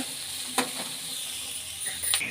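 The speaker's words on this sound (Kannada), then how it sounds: "ಚೆನ್ನಾಗಿ ಫ್ರೈ ಮಾಡ್ಕೊಳ್ಳೋಣ ಈರುಳ್ಳಿ ಚೆನ್ನಾಗಿ ಬಾಯ್ಲ್ ಆಗಬೇಕು ಅಲ್ಲಿವರೆಗೂ" Onions frying in a pan for soya chunks keema, a steady soft sizzle close by with a few sharp clicks of a spoon stirring, no talking.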